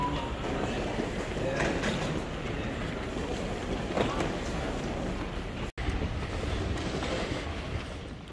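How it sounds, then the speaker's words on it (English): Interior of an airport terminal train carrying departing passengers to the gates at Dubai International Airport Terminal 1, with a steady rumbling ride noise and rail clatter throughout, close and continuous, a brief dropout near the end. "You have to take a train to go to the gates."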